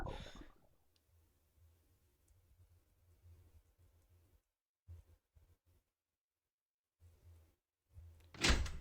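A welded-shut door rattles and clunks as it is tried in the video game Changed Special Edition, followed by a few scattered clicks and a sharp, louder thud near the end.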